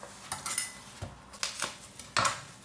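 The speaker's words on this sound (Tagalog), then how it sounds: "So, i-slice natin guys ng medyo ng kalahati." A knife slices through store-bought fried tofu on a board, giving three or four quiet, separate cutting taps and scrapes spread over a few seconds, close up, with no speech.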